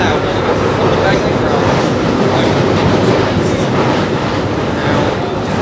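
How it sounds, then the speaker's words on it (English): A London Underground Northern line train runs through the tunnel toward Euston, a loud, steady roar with clattering wheels and rail noise filling the short stretch from start to finish. "Take this train up to Euston, and then we'll take another Northern line southbound"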